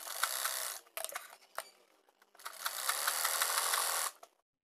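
A sewing machine runs straight stitching on a baby girl's crop top in two bursts, a short run and then a longer steady one, separated by a brief quiet pause and ending abruptly.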